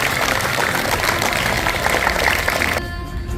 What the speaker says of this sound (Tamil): அட்டகாசமாய் கைத்தட்டுவோம்.